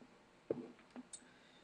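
A computer mouse clicks a few times in quick succession, faint and close, in an otherwise quiet room while video editing software is in use.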